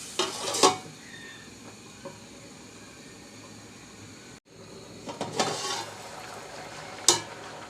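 Tomatoes go into a pan of frying tilapia with potatoes in a village-style curry, giving a soft steady sizzle with a few louder stirring and utensil clatters near the start, middle and end, and no talking.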